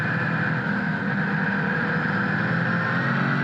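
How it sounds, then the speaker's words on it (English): Onboard engine of an 800-horsepower Trans-Am race car at Lime Rock Park, a loud, steady, close-up roar held at constant high revs throughout with no voices. "Just listening and hearing these TA cars"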